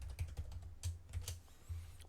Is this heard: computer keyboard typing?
yes